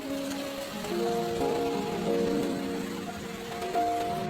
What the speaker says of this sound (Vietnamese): ngoài trời mưa rơi tí tách